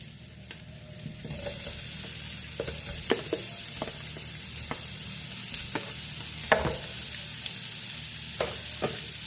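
Shrimp frying in a pan for Bicol Express while being stirred, giving a steady close hiss of sizzling broken by sharp scraping clicks from the utensil, with no talking.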